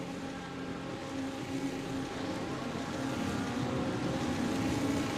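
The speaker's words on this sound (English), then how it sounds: "Revving their engines, rearing and ready to go, folks." Race cars idle and rev their engines on the starting grid at Spa, a steady, dense mechanical drone that holds at a constant level throughout with no clear individual revs or voices.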